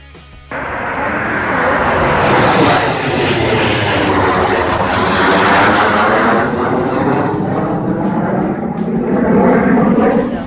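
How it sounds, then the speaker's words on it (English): A fixed-wing airplane makes a Canada Day flyby, its engine roar swelling quickly and holding loud and steady for about ten seconds with a broad sweeping drone. No one speaks. "Flyby. That's amazing."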